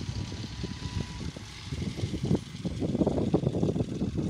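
A Fiat 420 tractor pulling a wheat reaper circles the edges of a field, its engine a steady, moderately distant mechanical drone with irregular clattering pulses that grow slightly louder toward the end.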